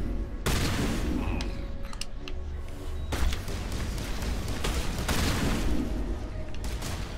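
Steady gunfire in Mass Effect Legendary Edition, continuous loud bursts of shots and booming impacts rolling on without pause, with rumbling combat noise underneath.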